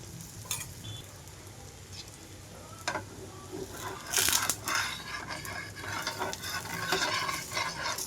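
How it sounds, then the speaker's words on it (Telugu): Bobbarla dosa batter fries on a pan with oil drizzled around the edges: a soft background sizzle with intermittent scraping and stirring clinks, louder bursts of sizzling toward the end, no talk. "చుట్టుపక్కల కొద్దిగా ఆయిల్ అప్లై చేస్తున్నాను మన దోశ వేసుకున్నట్లేనండి"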